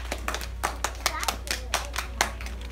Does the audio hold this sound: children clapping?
yes